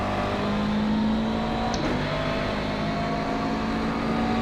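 Race car engine in a racing simulator video game, a steady sustained engine tone with a slight rise in pitch, loud and continuous, with no talk.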